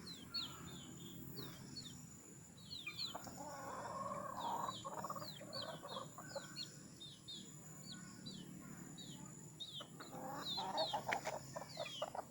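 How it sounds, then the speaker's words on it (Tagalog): Chickens clucking and calling softly in a quiet backyard, with repeated short clucks and chirps scattered throughout, faint and at moderate distance. "tinuka naman itong manok"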